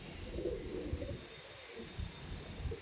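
A pair of Kalchira pigeons coo in low, burbling, repeated phrases nearby, steady and fairly quiet over a murmuring background.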